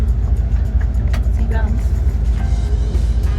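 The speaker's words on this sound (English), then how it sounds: "Made it onto the bus to Melaka." Interior of a coach bus on the road from Singapore to Melaka, a low rumbling engine and road drone with small knocks and rattles, while someone talks over it.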